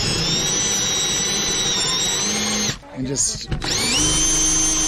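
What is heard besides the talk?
Forstner bit drilling out a wooden bung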